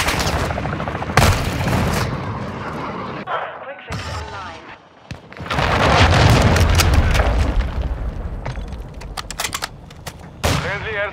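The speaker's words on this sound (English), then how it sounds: "Hostile cruise missile incoming!" Cruise missile strike explosions in Call of Duty Modern Warfare II Warzone, a dense barrage of loud booms and gunfire-like bursts rolling on and off for several seconds, with game radio voices cutting in.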